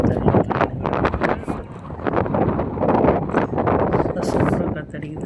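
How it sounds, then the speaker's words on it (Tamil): Wind gusts buffet the microphone with a steady low rumble, running throughout under ongoing talk. "சூப்பராக காற்றடிக்குது."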